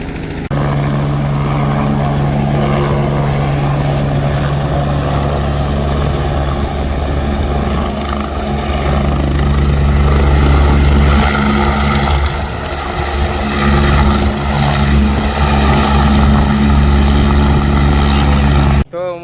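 A helicopter on a charter ride over the Mahakumbh runs loud and close, its heavy rotor thump and engine drone holding steady for the whole stretch, with people's voices faintly beneath.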